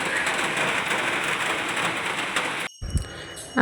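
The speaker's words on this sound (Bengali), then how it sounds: "এখন বৃষ্টিও নেমেছে দেখো এই হচ্ছে বৃষ্টির অবস্থা" Steady heavy rain hisses down for most of the clip, then cuts off abruptly, followed by brief faint voices and small sounds.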